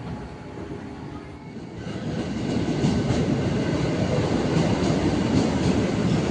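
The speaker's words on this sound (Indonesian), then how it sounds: "akhirnya KRL Kampung Bandan via Pasar Senen yang akan saya naiki tiba teman-teman" KRL commuter electric train on the Kampung Bandan via Pasar Senen line pulling into a station, a rumble that swells after the first two seconds and then holds steady and close, with no voices.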